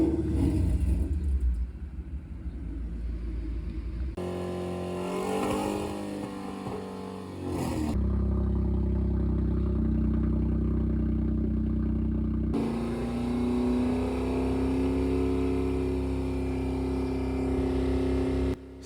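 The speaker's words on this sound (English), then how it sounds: "they're capturing some sound notes from different exhausts" A Hyundai Kona N exhaust idles and revs while being recorded, a deep engine rumble that shifts in segments with rising revs, droning steadily and fairly loud throughout with no voices.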